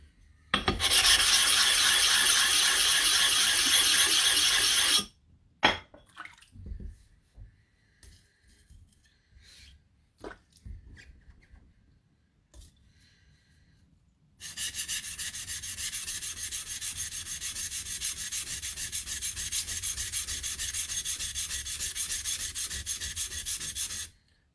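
A blade's shinogi is ground up on a sharpening stone in long, steady rubbing strokes: one sustained bout of abrasive scraping, a pause filled with scattered small clicks and handling, then another long continuous stretch of grinding.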